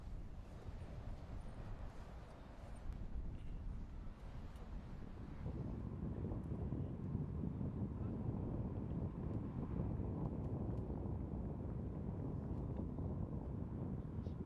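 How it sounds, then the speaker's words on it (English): Gusting wind buffets the microphone on an open disc golf course during a women's final round at a European disc golf festival, a steady broadband roar that swells louder about a third of the way through and holds, with no talk. "You can hear the wind gusting."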